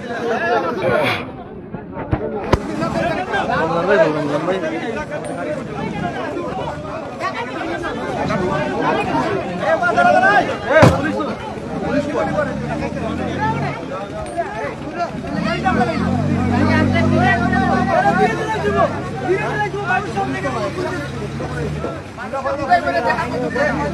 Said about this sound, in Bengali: মানুষের ভিড় জমে গেছে